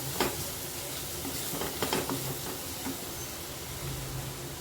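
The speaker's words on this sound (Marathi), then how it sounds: "हे सर्व मिक्स करून घ्यायचं आहे थोडासा मसाल्याचा कच्चटपणा जाईपर्यंत परता येते दोन मिनटं" Spiced peas pulao masala stirring and frying in a pan, a steady low sizzle with a few soft scraping strokes of the spoon, close and moderate in level with no talking.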